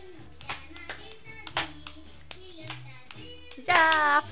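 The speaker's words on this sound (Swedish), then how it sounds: "Och klappa också kan man göra." A small child claps hands while dancing indoors, a few sparse, soft claps close by, with an adult voice speaking and a brief louder vocal burst near the end.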